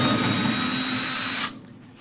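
A power drill whirs steadily and loudly while backing screws out of evaporative cooler ducting, running continuously for about a second and a half before cutting off abruptly into quiet.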